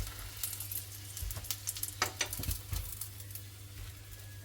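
Homemade chicken nuggets fry in hot oil in a pan, giving a steady close crackling sizzle with scattered pops and a sharper burst at the very end, with no voices.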